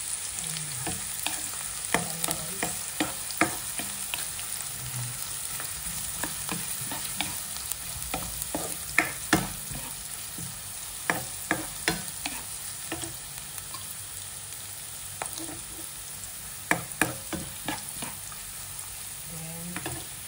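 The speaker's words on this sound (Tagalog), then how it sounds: "Ayan na yung mantika. Lagay na natin yung bawang. Ayan guys. Tapos sinagay natin yung sibuyas." Garlic and onion fry in hot oil in a pan: a continuous crackling sizzle runs throughout, broken by frequent close spatula scrapes and taps, with no talking.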